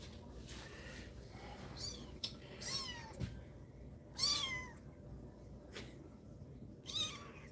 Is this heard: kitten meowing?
yes